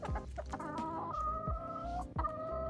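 Chickens cluck repeatedly nearby, with short overlapping calls and a low background hum.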